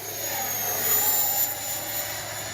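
An FMS Futura 80mm EDF RC jet model flies by, giving a steady, fairly loud ducted-fan whine and rush with a high-pitched tone that swells slightly midway, heard alone without talk.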